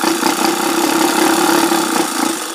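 An electric sewing machine stitches the collar of a kurta, giving a loud, continuous motor hum with a steady mechanical whir from start to finish.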